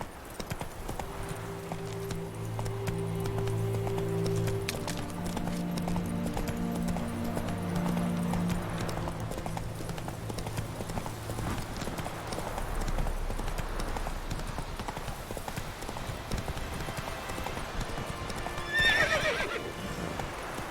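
Roach the horse from The Witcher 3 gallops with steady rhythmic clip-clop hoofbeats, close and prominent, and gives a clear whinny near the end.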